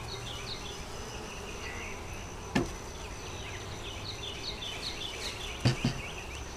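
Honey bees buzz around the top box of a double deep hive, a faint steady hum with scattered individual buzzes and a couple of sharp knocks.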